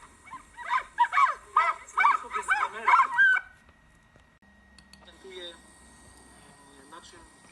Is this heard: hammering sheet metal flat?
no